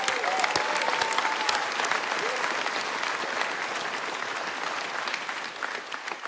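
A crowd at a 2024 PC New Brunswick campaign kick-off rally gives sustained applause, dense clapping that holds steady throughout.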